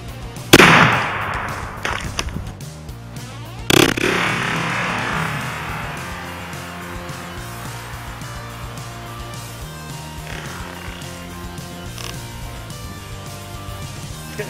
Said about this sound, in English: now we'll put a shot on with the SKS